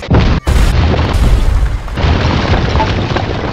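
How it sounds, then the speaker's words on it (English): A loud bomb explosion erupts with a deep, sustained roaring boom that briefly cuts out and then rolls on, fading slowly into a rumbling tail. "time to get lit. Bombs away."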